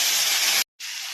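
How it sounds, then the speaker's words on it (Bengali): Cumin paste dropped into hot oil for a yam and hilsa fish-head curry, giving a loud close sizzling hiss that briefly cuts out and then resumes. "এই তেলে জিরে বাটাটা দিচ্ছি"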